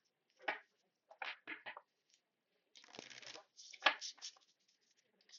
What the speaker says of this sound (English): Do you like the sound of the shuffling cards?